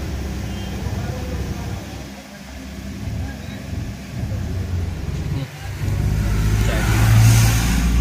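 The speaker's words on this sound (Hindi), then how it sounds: "मेरी गाड़ी का इंजन RPM भी ज़्यादा हो चुका है और हमने किसी भी प्रकार से एक्सीलेटर को प्रेस नहीं किया है" A Mahindra Scorpio or Bolero BS6 diesel engine runs at raised idle RPM during DPF regeneration with a soot mass fault code, making a steady close rumble that grows louder near the end while someone talks over it.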